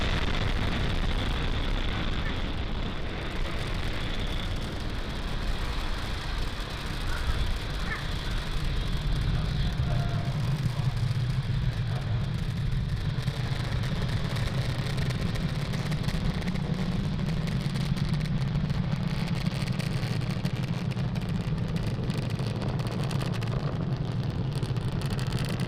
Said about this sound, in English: Falcon 9 has cleared the tower, lifted off from Cape Canaveral